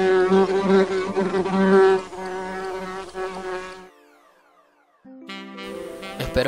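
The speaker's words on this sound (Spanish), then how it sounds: "en este caso yo voy a elegir este efecto que es mosca" A fly-buzzing sound effect from MAGIX Video deluxe 2013 drones loudly and steadily, cuts out into near silence for about a second, then resumes with a sharper buzz.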